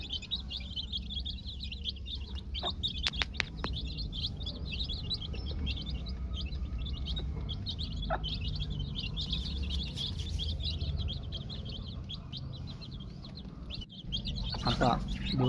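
Young chicks on day 17 chirp continuously in a chorus of high, rapid peeps, with occasional louder calls and clucks. Someone speaks over them at times.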